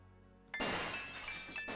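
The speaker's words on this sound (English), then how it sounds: "Gabriel hears the faint sound of breaking glass" Glass shatters in the Gabriel Knight: Sins of the Fathers adventure game, one sudden loud crash followed by a bright, tinkling spray of breaking pieces that fades out, heard alone over a quiet musical backdrop.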